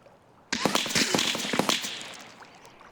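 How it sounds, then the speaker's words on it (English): Rapid burst of sharp, cracking gunshots in the video game Escape from Tarkov, a dense cluster of snaps fading over a couple of seconds, with one more crack at the end. "I do start to take some shots from somewhere"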